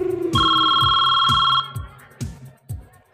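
A telephone bell rings in a loud, sustained electronic tone, then cuts off, leaving softer rhythmic tapping and clatter behind it.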